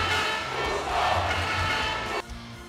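A home basketball crowd erupts in a thunderous ovation, a loud, dense roar of voices and cheers that holds steady, then drops off abruptly near the end.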